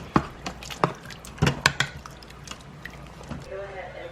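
A spoon stirs turkey chili in a Pioneer Woman Instant Pot, giving a few wet, clunky scrapes and sloshes close up that fade out toward the end.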